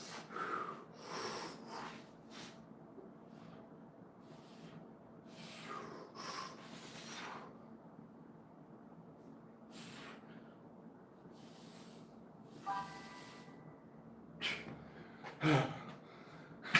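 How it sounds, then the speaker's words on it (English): Heavy breathing after an arm workout, a series of close, forceful breaths and snorting exhales in uneven bursts, with brief hissy gasps between quieter stretches. "I know you can hear me breathing."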